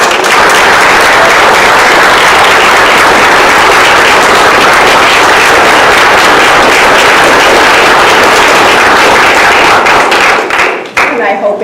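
A packed room at a college board meeting gives a loud, sustained round of dense applause for about ten seconds before it tapers off abruptly.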